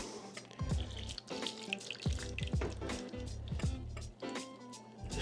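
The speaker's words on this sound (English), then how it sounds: "But we're going to put hot water." Hot water is poured into a pan for a crème brûlée water bath, giving a splashing, trickling stream with small glugs and drips, close up and moderately quiet.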